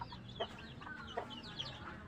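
Pet birds kept by a breeder call in a few short, bright chirps spaced through the recording over a low steady background hum, with faint clucking-like notes; the calls are moderately close but soft.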